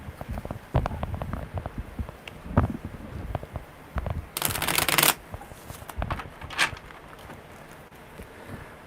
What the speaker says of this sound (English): All right, one more good shuffle